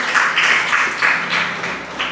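At a Tamil debate, the audience claps for the winning team from a college in a brisk, roughly unified rhythm, repeated bursts of many hands at a strong, steady level.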